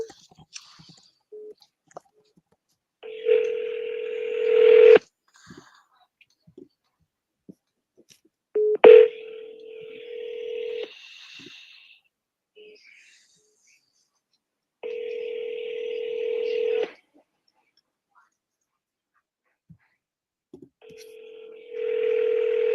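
Phone call tones: a steady dial tone and a ringback beep repeat in long, evenly spaced bursts with silent gaps, mixed with a few faint clicks from keys being pressed.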